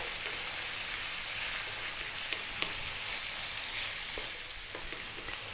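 Onion for a beef curry frying on high heat in a pan, a loud, steady crackling sizzle with scattered pops and sputters, close up and continuous with no voices.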